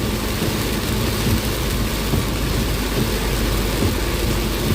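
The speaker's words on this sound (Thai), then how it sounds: "เมืองขอนแก่นฝนตกแรงจริง" Heavy rain pours steadily and loudly around a vehicle riding through a storm in Khon Kaen, with a constant wash of noise and low rumbling from wind or engine underneath.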